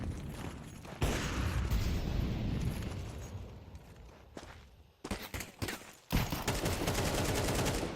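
Rapid gunfire in Counter-Strike on the dust2 map, dense bursts of shots with footsteps over a steady game backdrop, dropping out briefly before resuming loud and close.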